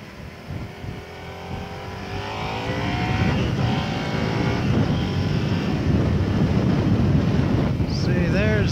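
A Suzuki SV650S motorcycle engine revs and climbs in pitch while riding, rising whines over steady wind roar at the microphone, getting louder partway through.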